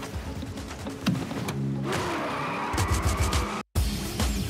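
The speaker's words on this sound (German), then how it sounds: "Ein Shelby Mustang GT500 mit deutlich über 600 PS." A Shelby Mustang GT500 with over 600 horsepower skids with a loud, sustained tire squeal over a roaring engine, broken by a brief cut before the noise resumes.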